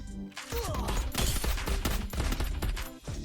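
Dense, rapid gunfire bursts from the mobile shooter Free Fire crackle loudly and close together, a near continuous volley of overlapping shots with no voices.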